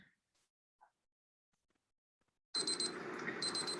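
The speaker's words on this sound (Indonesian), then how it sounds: "That's my timer saying this has been sterilizing for about a half hour." A timer alarm on a lab sterilizer suddenly goes off after near silence, a loud rapid electronic beeping pattern that starts partway through and keeps ringing close by.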